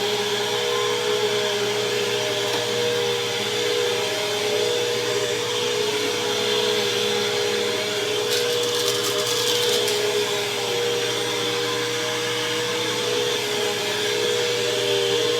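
A running BISSELL Cleanview upright vacuum cleaner gives a loud, steady motor whine and roar that holds constant and close throughout, with no talking.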